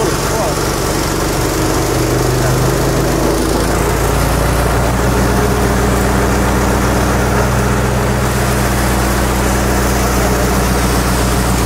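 A MAKTANI rice milling machine's engine runs loud and steady at full throttle, a continuous close mechanical drone with a strong low hum, and a voice talks over it.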